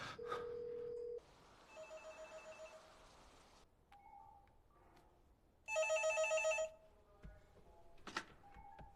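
Landline telephone ringing in a quiet room while a call is placed to a police station, two loud bursts of trilling bell rings separated by a pause, with faint clunks and handling noises between.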